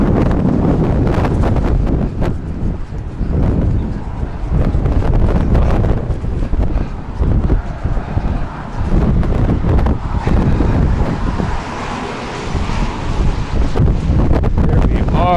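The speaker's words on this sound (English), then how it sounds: "It's a little bit windy." Strong gusty wind buffets the microphone in continuous low rumbling blasts, with a voice faintly mixed in.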